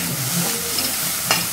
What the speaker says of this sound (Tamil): லைட்டாக மிக்ஸ் பண்ணி விட்டுக்கோங்க